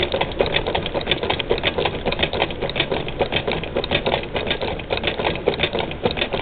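A Gateway Junior NP-1 toy sewing machine runs steadily, its rapid mechanical clatter close and continuous throughout.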